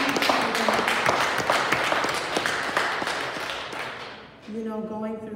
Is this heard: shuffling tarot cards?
no